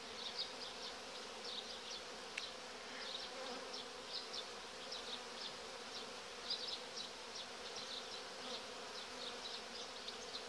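Honeybees buzz around an opened beehive in early spring, a continuous close hum with the sharper whine of individual bees passing near, and no talk over it.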